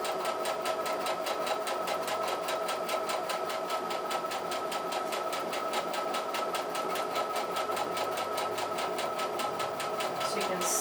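Sewing machine fitted with a pintuck foot stitching pintucks, a steady fast mechanical whir with evenly ticking needle strokes, running continuously and fairly quiet up close.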